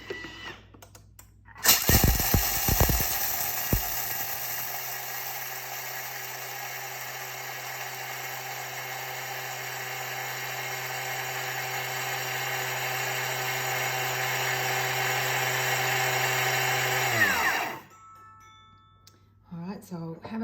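A Thermomix grinds coffee beans at speed 9, starting with a few rattling bursts and then holding a loud, steady high-pitched whirring roar for about fifteen seconds before spinning down.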